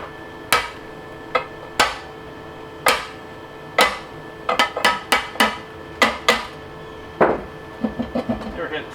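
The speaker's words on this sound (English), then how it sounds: "Might need a hammer" Sharp metallic hammer blows ring out on a stuck part of a home-made flail mill, some single and spaced, others in quick bursts of several strikes, each with a short ringing decay.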